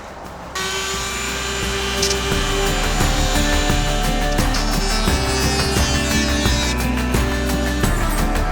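A Harbor Freight power saw cutting a jon boat casting deck, a loud continuous whining buzz with a rough, rattling edge that holds steady for several seconds after a sudden start, close up.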